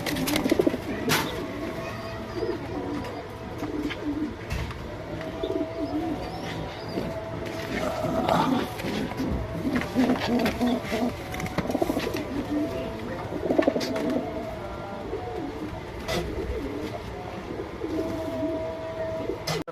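Low, soft cooing of pigeons repeating through steady background noise, with occasional rustles and faint distant sounds.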